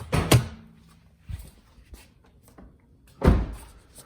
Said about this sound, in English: Open up your door, pop your hood.